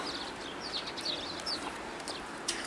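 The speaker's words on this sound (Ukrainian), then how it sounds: "омелюх" Bohemian waxwings wintering in Ukraine give thin, high trilling calls, several short bursts scattered over a soft, steady outdoor background.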